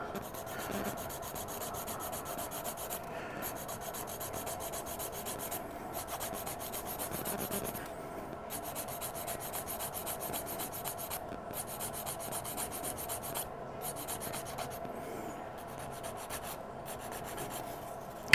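Coarse sanding stick shaping a Batman figure prototype, a steady close rasping rub with continuous back-and-forth strokes and a few brief pauses between passes, no talk.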